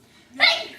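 A single sneeze bursts out sharply mid-clip against a quiet indoor room, loud and brief with a short airy tail as it fades.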